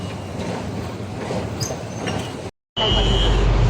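Steady rumbling rail noise inside a moving MRT metro train in Kuala Lumpur, a continuous low roar with a brief dropout, then louder rushing hum.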